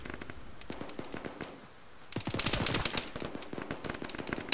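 Incoming gunfire during a firefight in a military video game (ShackTac), a steady patter of distant shots that breaks into a louder, faster volley of rapid cracks partway through.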